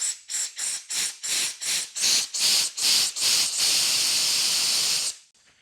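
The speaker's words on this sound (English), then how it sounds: "While you have the trigger opened, you can shoot a little air through there." Compressed air shot through a pressure washer pump with the trigger held open, first as a series of short sharp hissing bursts, then one long continuous blast that cuts off abruptly, close and fairly loud, no voices.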